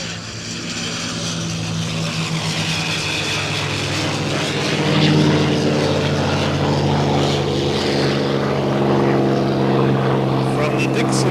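A P-51 Mustang warbird nicknamed "Red Nose" flies past, its propeller engine a steady loud drone with strong low harmonics that swells slightly midway, with talk and crowd sound underneath.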